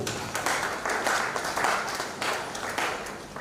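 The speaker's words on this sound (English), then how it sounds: "can we give her a round of applause?" Audience applause at a Nigerian Export Promotion Council event in Cross River State, a steady dense round of clapping that swells and holds throughout.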